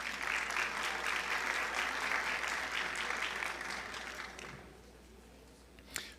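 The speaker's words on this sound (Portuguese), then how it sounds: "Uma salva de palmas." Seminar audience applause, a steady wash of many hands clapping that holds for several seconds, then gradually fades and thins out, ending with one brief sharp sound near the close.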